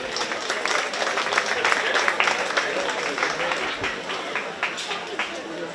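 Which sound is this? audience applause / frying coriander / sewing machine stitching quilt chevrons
audience applause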